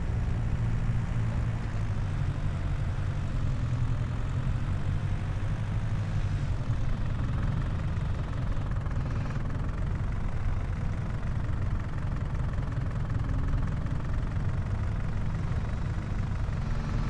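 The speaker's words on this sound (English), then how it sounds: "This is a cool little tractor." Small farm tractor engine idling, a steady low rumbling drone that stays constant and fairly loud for the whole stretch, with no talking.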